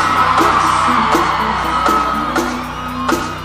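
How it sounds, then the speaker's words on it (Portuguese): A live crowd of women at a São João festival concert screams and whoops together, a dense, loud, continuous roar with rising bursts of cheering over a steady background of amplified music. "teu gritinho das damas"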